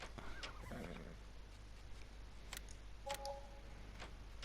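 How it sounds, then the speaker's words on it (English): A horse in the video game Farming Simulator 19 gives a short whinny, followed by scattered clicks and faint ticking at a low volume, with no talking. "There we go, the horse."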